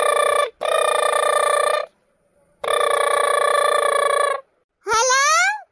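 Telephone ringing in an Awadhi cartoon: a bright electronic ring repeats in long bursts separated by pauses, loud and alone, followed by a short rising chirpy tone.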